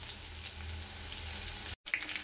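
Garlic frying in oil with a steady, close crackling sizzle throughout, briefly cutting out near the end before resuming.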